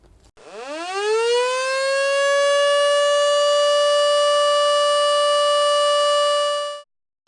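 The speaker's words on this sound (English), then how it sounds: "how the siren sounds, and it differentiates between how the fire service uses their fire siren" A loud, steady tornado warning siren wails, rising in pitch at the start, then holds one sustained tone for several seconds before cutting off abruptly.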